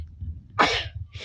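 A single sharp sneeze bursts out close by over a low background hum, followed by a brief softer breath.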